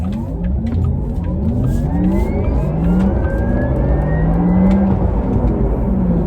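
A Porsche Taycan 4S electric car accelerating hard out of a junction in Sports Plus mode, a continuous rising whine and hum of drive motors with road rumble, heard from inside the cabin with no talking.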